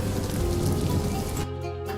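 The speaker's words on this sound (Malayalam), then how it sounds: "ചെറിയൊരു മഴച്ചാറ്റിലും ഉണ്ട്" Light rain patters steadily on a surface, a soft, even hiss of drizzle close by.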